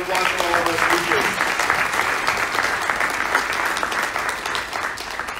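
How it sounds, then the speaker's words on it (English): Sustained audience applause for a group of event speakers at a community gathering, dense and steady for several seconds, with a voice briefly audible at the start. "Have a round of applause for all of our speakers."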